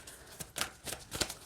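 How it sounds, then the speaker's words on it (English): A deck of Archangel Fire Oracle cards is shuffled by hand in quiet, close-up bursts: three soft, crisp riffles in quick succession. "So as long as I can manipulate it in shuffling, we're okay. And it shuffles fine here."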